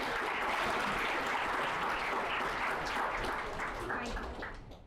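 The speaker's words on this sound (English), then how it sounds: "So big round of applause for her here." An audience applauds a first-generation content creator as she is welcomed, a broad, continuous wash of clapping that runs loud and even before thinning out near the end.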